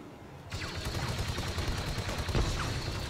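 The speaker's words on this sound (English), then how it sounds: "Ooh, wait. Blaster cannon." Blaster cannon fire in Star Wars: Battlefront 2 campaign gameplay: a dense, loud barrage of rapid blasts and explosions starting half a second in and continuing without pause, with a sharper burst near the end.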